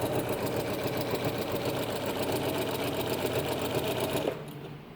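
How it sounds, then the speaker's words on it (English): A sewing machine top-stitches the edge of a homemade fabric mask, a loud, close, rapid steady needle chatter running continuously before stopping near the end. "we're going to top stitch this along this edge"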